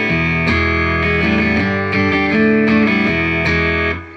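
Electric guitar plays through a Fender Deluxe Reverb Tone Master amp on the vibrato channel at volume 3, loud, sustained chords with several strummed attacks ringing out, then fading at the end.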